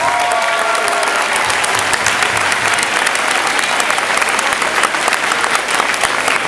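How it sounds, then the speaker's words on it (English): Audience applause for honored teachers at a Teachers of the Year tribute, a loud, continuous wash of many hands clapping with crowd murmur underneath, holding steady throughout. "Let's give them a big round of applause"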